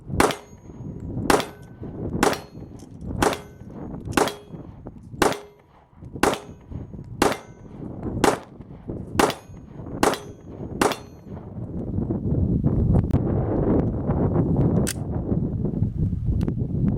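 FN FNX-45 pistol fired at a shooting range: about eleven sharp, loud shots at a steady pace of roughly one per second, each ringing briefly, followed by a few seconds of rustling handling noise.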